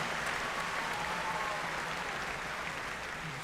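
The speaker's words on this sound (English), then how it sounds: "Give him a big round of applause." Commencement audience applause at SIUC's 2022 spring ceremony, a steady, distant wash of many hands clapping with no break.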